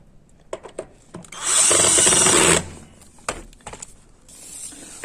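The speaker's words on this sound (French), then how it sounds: "soit je le termine avec le tournevis" A power screwdriver drives a screw into a wooden solar food dryer in one steady whir of about a second. Short clicks and handling knocks from the work come before and after it.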